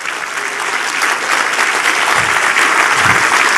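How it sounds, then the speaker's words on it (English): Loud, dense applause from a large crowd at a West Virginia energy economic development announcement, steady and continuous from start to end with a few low thumps near the close. "Now's when you really cheer."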